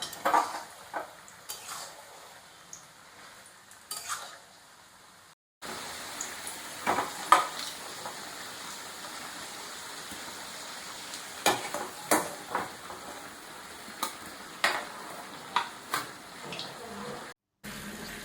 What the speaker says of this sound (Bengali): একদিকে মাটন হচ্ছে আর এইদিকে একদম আলু ভাজা হচ্ছে, মাঝে মাটন নাড়তে থাকতে হবে।